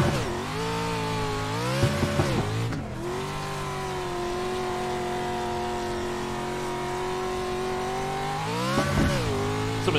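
A two-wheel-drive rallycross car with a small four-cylinder engine in iRacing, revving hard and holding a steady high-pitched drone, with quick drops and surges as it shifts and accelerates, loud and continuous.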